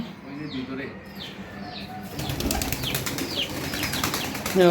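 Pigeons kept on a rooftop garden flap their wings in quick bursts, with faint chirps and soft coos nearby against light outdoor background noise.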